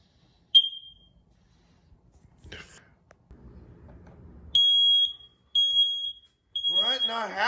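Smoke alarms in a house at 4:30 in the morning give sharp, piercing electronic beeps, first a single chirp, then three longer beeps in a row, with rustling and a faint voice in the quiet.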